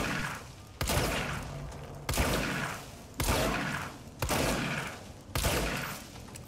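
Shotgun blasts in a video game: six heavy booming shots fired at a steady pace about a second apart, each with a sharp crack and a long reverberant tail, loud with no talking.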